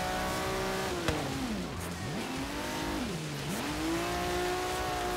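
In Forza Horizon 3, during a race on a frozen lake, a car engine revs loud and close, its pitch climbing, dropping sharply twice as gears shift, then rising again, alone with no voices.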